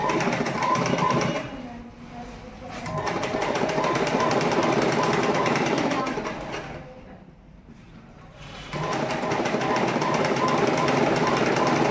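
Sewing machine stitching a uniform nicker, loud rapid mechanical chattering in long continuous runs, stopping twice for short quieter pauses before starting again.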